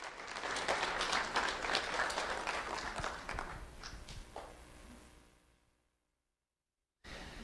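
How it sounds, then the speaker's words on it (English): Applause honoring three elementary school students at a recognition event, brisk clapping that gradually tapers off and fades to silence before a brief return of room sound at the very end. "Round of applause for Gabriella, Jackson,"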